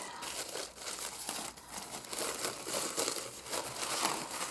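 Tissue paper crinkles and rustles steadily up close, a continuous crackly texture of small crisp crackles with no voices.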